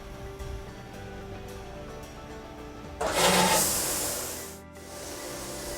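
Plate processor running a washout cycle: a low machine hum, then a loud broadband spray-like hiss bursting in partway through, dropping briefly before steady mechanical noise resumes.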